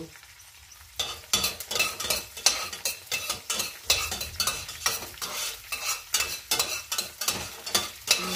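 Chopped garlic sizzles and crackles in hot oil while a spoon stirs it in short repeated scrapes, the start of a chicken macaroni soup, close and steady after a quiet opening second.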